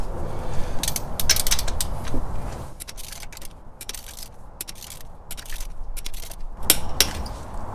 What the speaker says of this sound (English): so we're going to torque the lug nuts.